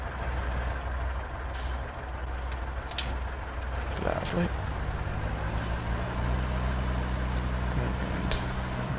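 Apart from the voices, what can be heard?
truck engine left running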